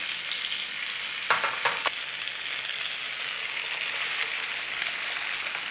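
An egg frying in a pan for an Irish boxty breakfast stack, a steady broadband sizzle running throughout with a few sharper crackles and pops, close and moderately loud, no talking.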